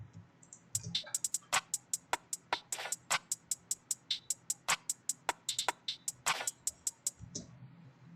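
A simple drum pattern from a drum kit in a beat remake plays alone, with crisp, rapid, evenly spaced hits marking a steady rhythm and a few denser flurries.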